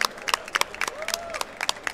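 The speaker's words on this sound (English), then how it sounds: "Give him a round of applause," Audience applause for Elvenshadow at the AnimEVO 2019 Guilty Gear XX AC+R grand final: a short burst of scattered, uneven claps from a nearby crowd, with a thin rising-and-falling whistle-like tone over them.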